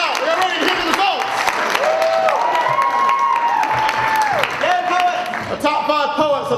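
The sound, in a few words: audience applause and cheering at a poetry slam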